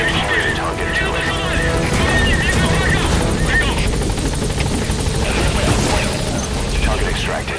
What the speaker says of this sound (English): We'll just have to do it by chopper. Call the chopper from your iDroid box.